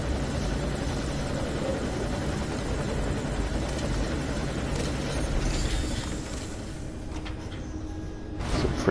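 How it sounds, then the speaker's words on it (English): A helicopter in the video game Metal Gear Solid V: Ground Zeroes, its steady rotor drone filling the scene loudly and continuously, swelling slightly near the end, with no talking. "pretty nice little helicopter."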